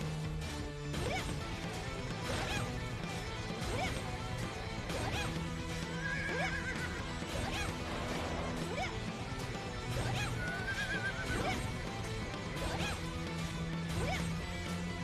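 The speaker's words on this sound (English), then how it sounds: "Okay, that was actually a really good horse." A horse in a video game neighs and whinnies twice over clattering hoofbeats and crashing impacts, set against a busy game soundtrack that runs throughout.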